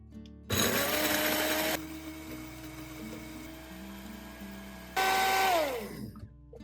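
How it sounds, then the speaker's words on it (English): A grinder runs in two loud continuous bursts, whirring as it grinds dried chili peppers into flakes, with a quieter motor hum between bursts and spin-down at the end. "Instead of pressing and releasing, grind continuously to make the chili peppers smoother and more even."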